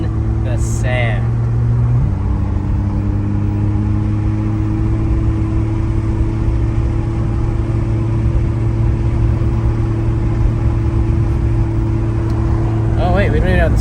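A Porsche engine hums steadily as the car cruises, with a constant mid-range drone, a slight shift in tone early on, and people talking inside the cabin over the road noise.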